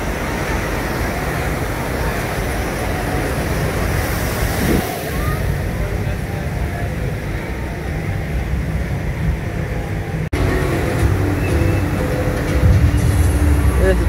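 Rushing water roars steadily around the Infinity Falls river rapids ride at SeaWorld Orlando, a continuous loud splashing wash that swells near the end, with voices of riders faintly beneath.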